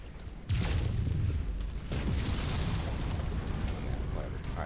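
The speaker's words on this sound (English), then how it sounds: "Who's shooting at me?" Heavy weapon fire and explosions in a mech combat game, Crusader on a first run through Rise of Rasalhague, loud and continuous with a big boom at the start, rumbling low booms and bursts under someone talking.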